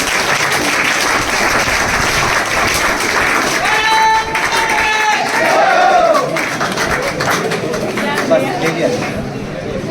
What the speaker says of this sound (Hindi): उनके लिए भी ताली हो जाए।